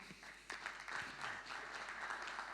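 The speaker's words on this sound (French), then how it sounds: "On peut les applaudir." Audience applause at a French retail media awards ceremony, a steady crowd clapping that swells slightly and holds for a few seconds, dense and fairly quiet with no clear speech.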